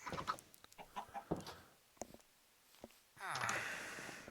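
Blocky Minecraft chickens cluck in a short burst near the end, with scattered game noises and faint sounds before it and no speech.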